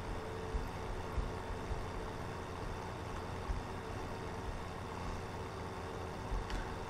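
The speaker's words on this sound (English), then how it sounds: "And climb into our beautiful Ford tractor." Ford tractor engine in Farming Simulator 17 idling steadily at low volume, a continuous muffled rumble with occasional soft bumps and no talking.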